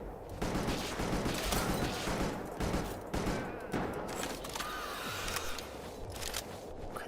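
Rapid bursts of gunfire from a firefight in the video game Palworld, dense overlapping shots crackling loudly and continuously across the whole stretch with sharp transients, no talking.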